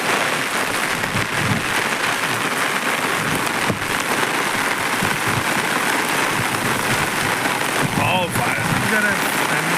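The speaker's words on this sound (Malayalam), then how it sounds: "ഫെൻറ്റാസ്റ്റിക് മഴ ഒരു രക്ഷയില്ല" Heavy rain pours down in a loud, constant roar of hiss and spatter, with a brief voice near the end.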